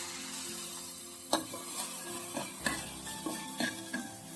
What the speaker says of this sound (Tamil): கத்திரிக்காயும் சேர்த்து வதக்கிக்கலாம்.